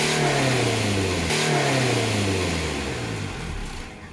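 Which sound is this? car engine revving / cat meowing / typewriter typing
car engine revving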